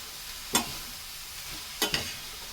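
Lumpia filling with soy sauce cooking in a hot pan, stirred in two quick scraping strokes, the second a double scrape, over a faint steady sizzle.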